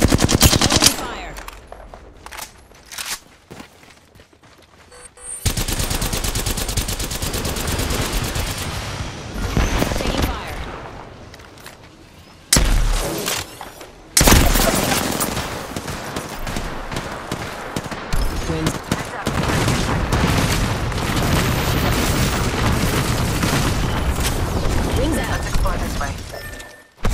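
Apex Legends gameplay with bursts of automatic gunfire, rapid rattling volleys and single loud shots, mixed with game effects and broken by short quiet gaps, under voice callouts.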